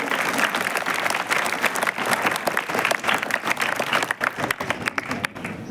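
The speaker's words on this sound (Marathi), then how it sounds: "जोरदार टाळ्या झाल्या पाहिजेत." Enthusiastic audience applause at a school reading-room naming ceremony in Karanja Lad, dense and continuous clapping filling the hall before tapering toward the end.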